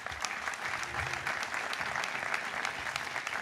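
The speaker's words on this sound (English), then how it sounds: "would you give your parents a nice round of applause?" A Villanova University commencement audience applauds in a sustained, even burst of many hands clapping, heard close and filling the whole moment without speech.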